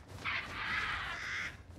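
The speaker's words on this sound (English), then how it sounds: "I can hear birds" Crows caw in the game Resident Evil Village, two drawn-out harsh calls in close succession, fairly faint against a low ambient background.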